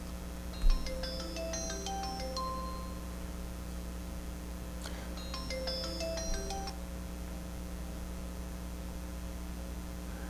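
A WeChat call ringtone plays a quick melodic pattern of electronic notes, repeating twice with a pause between, over a steady low background hum.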